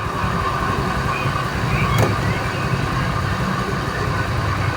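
A GY6 scooter engine with a replaced carburetor runs steadily with a constant low rumble and buzzing drone, unchanging throughout, with a brief faint click in the middle.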